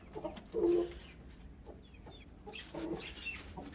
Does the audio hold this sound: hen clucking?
yes